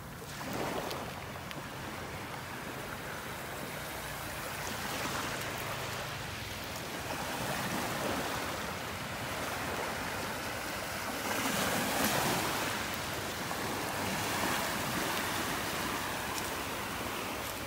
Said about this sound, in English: the waves are starting to stir things up along the shore here